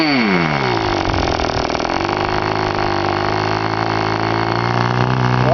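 A K&B Fuji .05 model aero engine idles steadily and loudly up close during break-in, a continuous buzzing drone with a slight pitch dip near the start and no voices.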